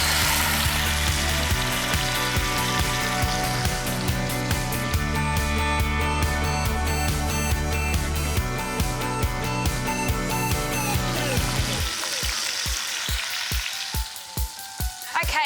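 Pork searing in hot rice bran oil in a pot, a loud, steady sizzle and crackle that runs without a break, with a few faint taps near the end as the fry quiets.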